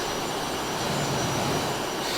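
Exhaust from the jet engine of a Cessna T-37 in Microsoft Flight Simulator 2020 gives a continuous, loud, broadband jet roar that holds steady with no pauses and no talking.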